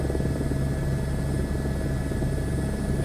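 Helicopter in Microsoft Flight Simulator 2024, a steady rhythmic rotor chop over a low engine drone, continuous and fairly loud.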